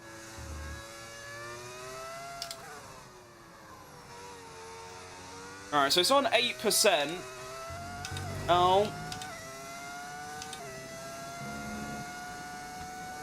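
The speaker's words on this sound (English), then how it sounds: "the V10 engine is back. Screaming away into the distance." Lamborghini V10 Formula 1 car engine screaming in the F1 25 racing game, a steady high-pitched whine with revving bursts, while a voice talks over it.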